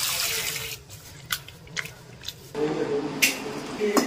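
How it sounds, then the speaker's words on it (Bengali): Chopped vegetables rinsed together with rice and lentils in water, squishy sloshing and splashing in a bowl, near and intermittent with short quiet gaps, and a voice talking at moments. "এইবার এগুলোকে ভালো করে ধুয়ে নেব চাল ডালের সাথে"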